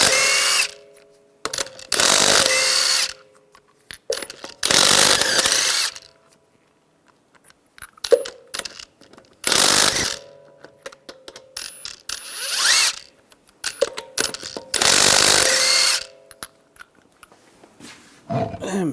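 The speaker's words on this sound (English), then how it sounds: "take the lug nuts off" Power tool spinning lug nuts off a 2011-2018 Ram 1500 wheel with a 22mm socket, loud close bursts of whirring, roughly six separate runs of one to two seconds with short pauses between, no talking.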